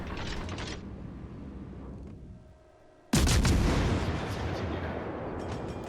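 Warship guns fire in World of Warships Legends: mechanical clanks and a fading roar drop to near quiet, then a sudden heavy artillery boom erupts and rumbles on loudly.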